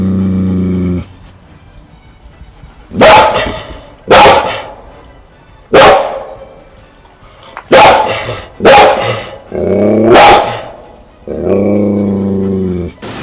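Loud, close barks from two dogs, one a Malinois, come in short bursts, about six separate woofs spaced a second or two apart, with deeper growling or whining at the start and end.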